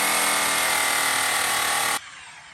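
A DeWalt rotary tool fitted with a small brush whirs steadily at high speed while polishing aluminum wheels, a loud, continuous close-up buzz that cuts off abruptly near the end, leaving quiet room tone.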